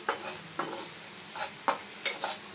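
Okra frying and being stirred in a home kitchen pan, a soft steady sizzle broken by several sharp scraping stirs at irregular intervals, close and moderately quiet with no talk.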